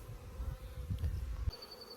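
A close swarm of honey bees hums around their hives in a bee yard on a sunny day, a low steady buzz with a loud fly-by before it briefly thins out.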